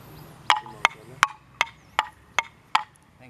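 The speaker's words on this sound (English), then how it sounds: "I'm going to play music of bamboo." Seven sharp, hollow bamboo clacks from a traditional Mizoram bamboo instrument, struck at a steady, even pace, each ringing briefly with a bright knock, played alone with no talking.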